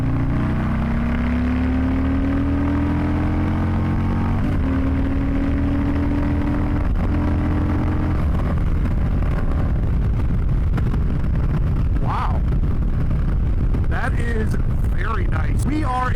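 A Harley-Davidson Low Rider ST motorcycle cruising in sixth gear on a highway; a steady engine drone climbs in pitch, then gives way to heavy wind rush over the microphone.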